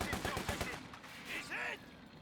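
A sniper shot in a strategy video game: a sharp crack followed by a short metallic ringing burst, heard beneath a steady rumble of game ambience.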